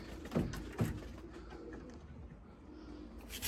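Limoni breeding pigeons coo softly nearby, with two distinct low coos early on, then a quiet stretch and a brief rustle at the end.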